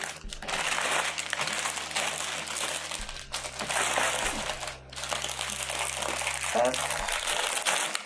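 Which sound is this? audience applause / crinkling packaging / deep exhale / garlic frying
crinkling packaging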